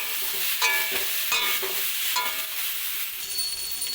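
Soybean chunks, papaya and potato curry being stirred in a pan, with steady sizzling frying and a few scraping spoon strokes against the metal, close and continuous.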